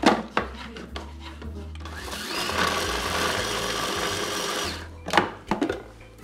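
A food processor whirs steadily, grinding a harissa marinade paste into a coarse blend, with short bursts at the start and end around a longer continuous run.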